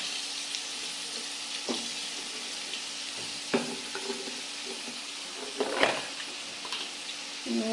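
Fish fries in a pan with a steady sizzle while a utensil stirs and turns the pieces, giving intermittent scraping knocks over the constant hiss.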